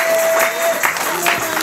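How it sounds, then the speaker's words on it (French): A church congregation at a seminary service claps for a short burst, loud and close, with a sustained tone and some crowd noise running under it. "Applaudissez pour le Seigneur."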